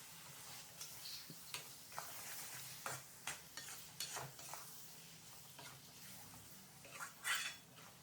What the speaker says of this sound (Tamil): நல்லா கலந்து விட்டுட்டே வாங்க.